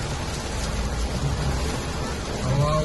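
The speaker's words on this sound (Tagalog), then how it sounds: "Binigla na naman yung ulan." Heavy rain pours down in Quezon City as a loud, dense, unbroken roar of water hitting the surfaces nearby.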